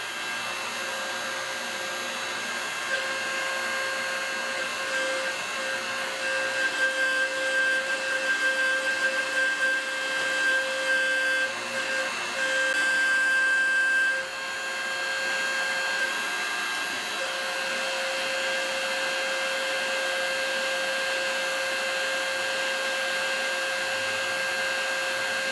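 Compressed air hisses loudly and continuously as parts of a welding rotary table are blown out in a shop, holding steady for about twenty-five seconds with a brief dip partway.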